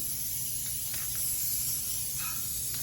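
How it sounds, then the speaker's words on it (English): An aerosol spray can hissing steadily as it coats the backing of a tufted rug, a continuous close breathy spray with slight swells in intensity and no talking. "So we're gonna spray this side here, and then we're gonna spray the other side of our backing."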